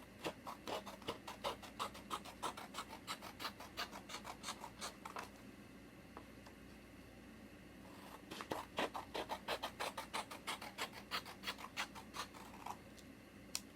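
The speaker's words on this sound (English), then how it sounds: "So we're going to cut some thin strips" Scissors snip thin paper strips in quick rhythmic runs of crisp, close cuts, with a short pause midway before another fast series of snips.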